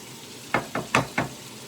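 Four quick, evenly spaced scrapes of a utensil stirring spring onion, garlic, baby sweet corn, mushrooms and red pepper frying in butter with herbs, over a low background sizzle.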